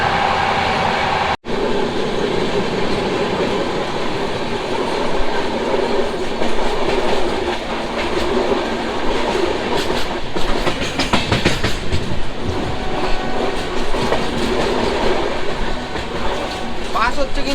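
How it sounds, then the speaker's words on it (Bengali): The Himgiri Express, train 12332 from Varanasi to Kolkata, rumbles and clatters steadily along the rails at over 130 km/h, loud and close, with a brief sharp dropout early on and faint voices underneath. "ট্রেন কিন্তু টানছে একশো তিরিশের উপরে"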